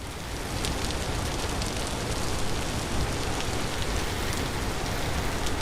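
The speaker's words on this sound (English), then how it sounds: "I hear it's raining outside in the game" Steady rain falls in the survival game Vintage Story, a dense, even hiss with scattered droplet ticks holding at a constant level throughout, with no voices over it.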